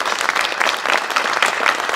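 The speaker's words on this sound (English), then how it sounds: "I think it all deserves one more round of applause" An audience at a community vision presentation claps in a dense, steady burst of applause, close and full, with no talk over it.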